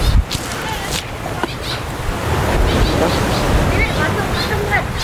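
Sea waves break and wash ashore at a beach in Pagudpud, Ilocos Norte, a steady, moderate rumble of surf mixed with wind buffeting the microphone, with faint voices in the background.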